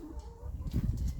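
Backyard chickens kept at an Australian home garden cluck and murmur out of sight, a soft low burst of fowl sounds heard briefly and not too close.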